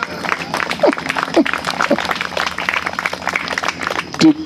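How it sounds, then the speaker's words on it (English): Audience applause at a Hare Krishna japa workshop in Pietermaritzburg, a steady patter of many hands clapping at moderate level, with voices and brief vocal sounds mixed in throughout. "A round of applause."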